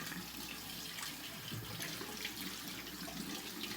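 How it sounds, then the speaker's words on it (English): Water runs steadily from a tap into a sink, a continuous close splashing hiss with no talk over it. "Get this water warmed up."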